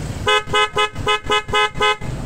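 A loud, brassy aftermarket horn on a Honda ADV150 motorcycle honks in eight quick evenly spaced blasts, close and piercing, with no talking.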